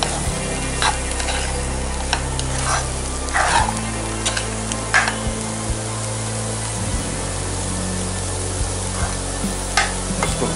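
Chana dal and cabbage sabzi frying in a pan after salt is added, mixed with a spoon: continuous close sizzling with irregular scraping and knocking strokes against the pan, no voices.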